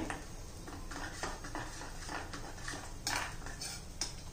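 Red food colour is stirred into chilla batter with a spoon, making soft, repeated scraping and tapping against the bowl at a steady rhythm, faint and close.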